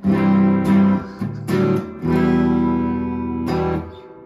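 An electric guitar plays loud, ringing chords through a Cornell Romany 12 tube amplifier, struck in a few bursts with sustained notes between them.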